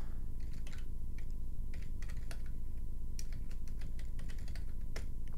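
Steady, quiet typing on a computer keyboard while entering a Linux terminal command, with rapid soft key clicks running continuously, close and alone.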